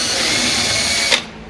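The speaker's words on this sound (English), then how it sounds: "Gonna get our drill, and we're using a 3/16 bit." A power drill with a 3/16 bit whirs steadily into a hole for about a second, then winds down with a short, harsher burst as the bit stops.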